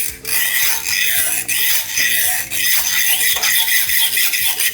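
Worn-out construction saw, once used for cutting wood, scraped as a Junkanoo rhythm instrument, giving a loud, continuous rasping rhythm of repeated strokes, close and alone.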